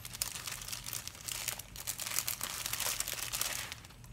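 Paper ephemera pieces crinkle steadily while being handled, with close, soft, continuous rustling and crackling for a few seconds and no speech.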